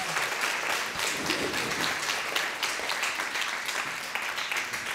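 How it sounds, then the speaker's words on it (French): At a multilingual kamishibai contest award ceremony, the audience claps for the finalists with a continuous, moderately distant round of applause that holds evenly throughout, with no voices standing out. "Donc pour ça, on peut les applaudir bien fort."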